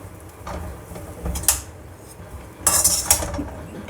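Chow mein noodles tossed with a spoon in a pan: a few close metallic scrapes and clinks in two short bursts over a soft background hiss, with no talk.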